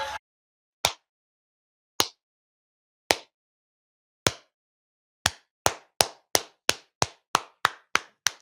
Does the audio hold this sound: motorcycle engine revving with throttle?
no